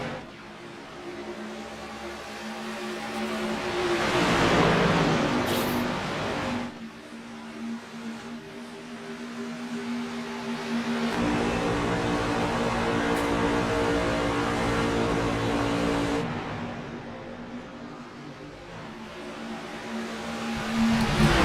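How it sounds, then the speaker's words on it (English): NASCAR trucks race hard at Chicagoland, their engines giving a continuous roar that swells and fades as packs of trucks pass, heard from a distance across the track. "Boy, these three are racing hard."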